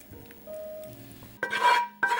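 Garlic shrimp cooking in a pan that are just finished, with quiet scraping and stirring first, then two brief bursts of sizzle and clatter as the pan is moved, close and fairly loud.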